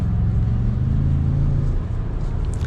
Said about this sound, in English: I think the engine is slightly tuned different to where there is a little bit more grunt when you're in this mode